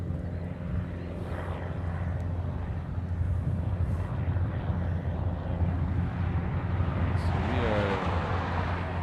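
A Philippine Airlines jet, Flight 100 from Manila, arrives at Honolulu airport as a steady, broad engine roar that holds throughout and swells slightly toward the end, with faint talk in the background.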